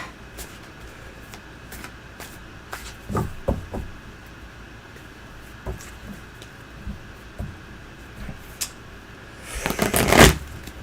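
Tarot cards being shuffled by hand, a run of soft flicking riffles with scattered taps, then a louder, denser burst of riffling near the end, fairly close with a faint background hum.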